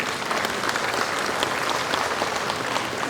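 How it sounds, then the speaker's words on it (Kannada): An audience at a school event applauds the parents, a dense steady burst of many hands clapping at once, loud and even throughout with no pause. "ಪುಟ್ಟ ಮಕ್ಕಳೇ ನಿಮ್ಮ ಅಪ್ಪ ಅಮ್ಮನಿಗೆ ಒಂದ್ಸರಿ ಚಪ್ಪಾಳೆ ಹೊಡೆಯೋಣ"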